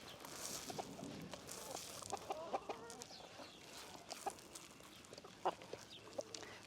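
Several chickens cluck and murmur softly nearby on a farm, with scattered short clucks and faint rustling in a quiet outdoor setting.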